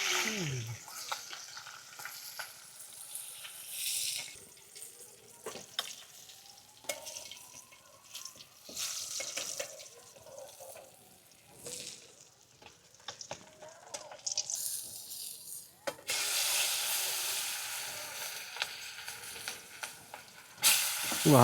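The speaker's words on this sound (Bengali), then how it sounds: "পাঙ্গাস মাছ তো ওই জন্য তেল ছিটতেছে" Pangas fish frying in hot oil on a riverboat, a steady close sizzle with crackling oil spatters and occasional stirring clatter, louder bursts of hissing near the end.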